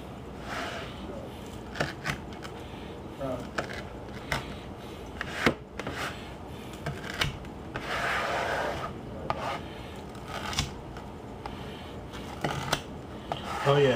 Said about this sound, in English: Alright, let's cut the pizza.